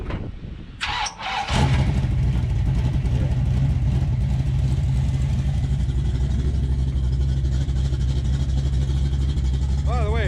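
A big-block, tunnel-ram engine in a Dodge D100 pickup fires up after a brief moment of talk, then settles into a loud, steady, close idle that continues to the end.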